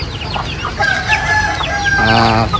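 Native chickens cluck and chatter in a coop, with a rooster crowing near the end; close, lively bird calls fill the short stretch without any talking.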